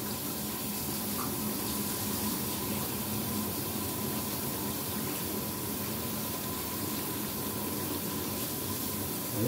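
Hot water runs steadily from a tap in a continuous, close, even gush of splashing flow that lasts throughout, with no voices.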